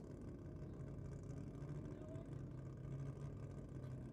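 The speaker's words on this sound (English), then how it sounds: "Nice burnout down there from the Falcon in the Aeroflow lane" A Falcon doing a burnout in the Aeroflow lane at a Nissan theme night drag race: a distant, muffled, steady engine roar that holds at a constant level without distinct tyre squeal.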